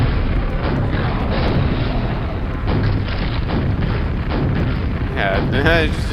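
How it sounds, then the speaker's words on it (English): Rocket explosions slam into a wall in the Quake video game, a dense, loud barrage of overlapping booms that keeps going without a break. "just spam rockets at the wall"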